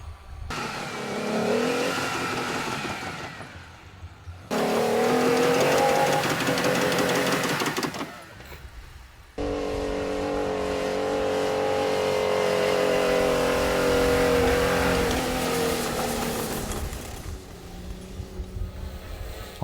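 An off-road vehicle's engine revs hard on a hill climb in deep, loose desert sand, in repeated loud bursts separated by short lulls, straining and rising in pitch; no voices.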